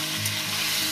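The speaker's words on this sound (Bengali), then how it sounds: "শিমটাকে দিয়ে মিনিট 2 ধরে ভাজবো" Beans and green chillies fry in a pan with a dense, steady sizzle, close and loud throughout a brief moment, no voices.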